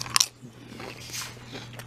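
Crunchy bites and chewing of Buffalo Wild Wings Doritos Flamin' Hot nachos topped with cheese and peppers: one sharp, close crunch near the start, then quieter, steady chewing alone.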